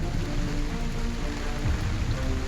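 Heavy monsoon rain falls steadily, a dense continuous hiss and patter of drops on surfaces with no pauses, loud and close throughout.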